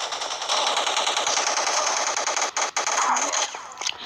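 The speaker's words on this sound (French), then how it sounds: "donc là on tire dessus" Rapid automatic gunfire from a weapon in the Fortnite video game, a loud, steady stream of shots running almost the whole time with a couple of brief breaks near the end.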